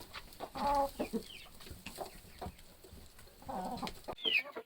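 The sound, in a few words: roosters and young chickens clucking in coop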